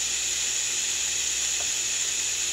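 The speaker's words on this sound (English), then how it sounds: "I'm going to put a little bit of butter in that, in them onions to make them golden brown." Onions fry in butter in a covered pan, giving a steady, moderate hiss and sizzle close by with no voices.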